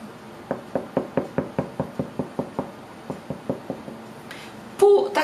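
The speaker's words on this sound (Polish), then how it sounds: "I teraz tak, pukamy." Knuckles rap on the underside of a freshly baked wheat-oat bread loaf, about fifteen hollow knocks in a quick even rhythm, followed by a brief clatter at the end.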